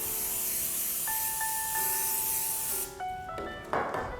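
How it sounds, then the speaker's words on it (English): A steady aerosol hiss of cooking spray onto loaf pans runs for about three seconds, then breaks into shorter bursts mixed with light clatter. "I'm gonna spray these loaf pans with some cooking spray so nothing sticks."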